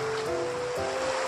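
Floodwater from a river swollen by heavy rain rushing over a bridge, a continuous broadband roar with a faint steady tone running through it, without speech.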